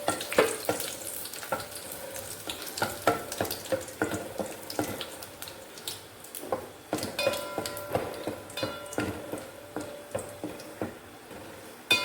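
Dried red chillies sizzle and crackle in a pan for garlic chutney, a steady close frying hiss broken by frequent stirring clinks and scrapes, with no talking.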